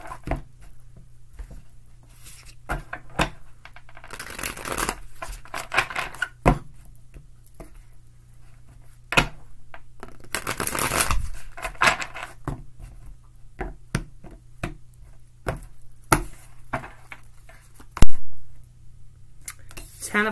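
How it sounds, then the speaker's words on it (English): Tarot cards riffled and shuffled by hand in a few quick bursts, crisp papery flutters and taps close up, with a steady low hum beneath. "Couple quick shuffles for Libra."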